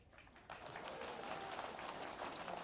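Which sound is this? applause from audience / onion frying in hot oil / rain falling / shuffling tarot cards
applause from audience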